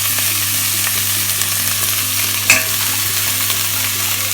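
Leeks browning in a frying pan give a steady, loud sizzle with stirring scrapes throughout and one sharp clink midway, no voices.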